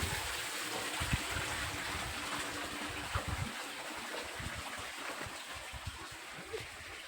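Water runs steadily from a tank on a farm with banana plants, a faint continuous gush and trickle heard from a short distance with no talking.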